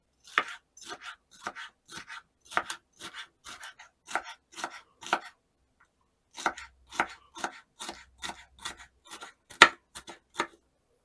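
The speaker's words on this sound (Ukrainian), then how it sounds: "Перець розрізаю навпіл і ріжу соломкою." A knife slices a halved bell pepper into strips on a cutting board, a series of crisp, close, evenly spaced cuts in two runs separated by a short pause, with no talking.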